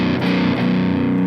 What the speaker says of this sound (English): Crunchy but not really distorted.